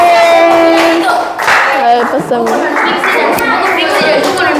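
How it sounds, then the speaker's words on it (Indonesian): Applause for a student science group at a school coaching session, with continuous clapping running under children's and adults' voices that chatter over it throughout. "Berikan tepuk tangan lagi untuk kelompok sains"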